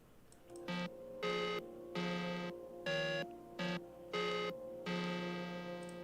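Random melodic motif from a modular synthesizer opening an electronic track: bright, bell-like tonal notes in short separated bursts, forming an uneven rhythmic pattern, clean and alone.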